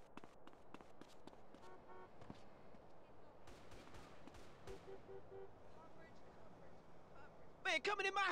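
Scattered gunshots during a street fight in GTA San Andreas, faint individual cracks spread across the clip over low ambient noise, ending in a louder burst of noisy sound.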